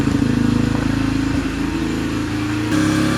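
A cold Yamaha TTR 125 trail bike idles while warming up after a carburetor clean and rebuild, its single-cylinder engine putting out a loud, close, steady putter with a slight dip partway through and no talking.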